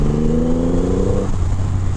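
A 2023 Triumph Rocket 3 GT motorcycle with a 2500 cc engine revs up close and loud in a deep, steady throaty roar that drops in pitch partway through, with no talking over it.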